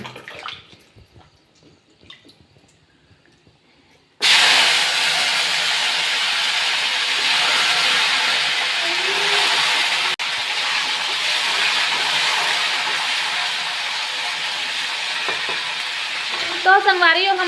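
Loud, steady sizzling of garlic dropped into hot oil starts suddenly after a few quiet seconds of soft background noise and continues close by.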